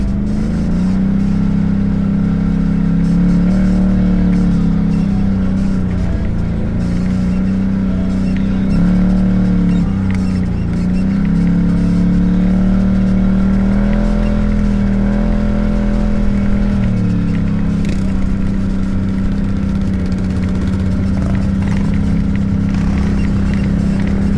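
ATVs including a Honda TRX 250, a Yamaha Raptor and a Can-Am Maverick on a trail ride, their engines droning loud and steady throughout, the pitch rising and falling with throttle changes.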